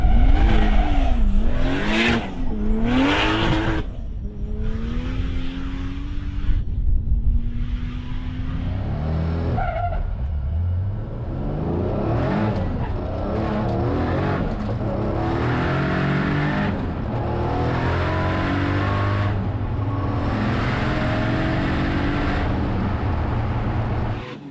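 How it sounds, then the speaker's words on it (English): A Nissan Skyline R32 GT-R launches down a drag strip laid out on a slippery airport runway, its engine revving hard in loud rising sweeps, then holding a sustained roar through the gears. "cars hit the drag strip to see what ET and mile per hour they could rip out"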